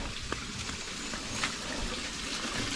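Water flowing in a stream along a mountain trail during a solo motorcycle ride, a steady broadband rush heard close and moderately loud for the whole stretch, with no talk over it.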